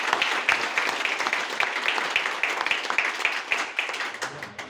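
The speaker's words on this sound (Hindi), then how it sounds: "एक जबरदस्त तालियां रैंक के लिए।" Audience applause at a business plan presentation, many hands clapping in a rhythmic, slightly synchronized pattern at close range, steady and then tapering a little toward the end.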